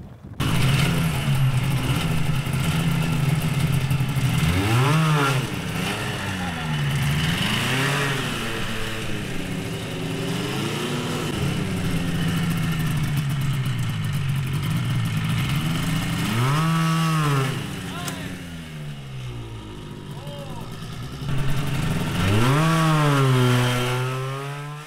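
A small single-cylinder engine on a kid's go kart runs loud and close, revving up and down in repeated buzzy surges with brief dips between bursts.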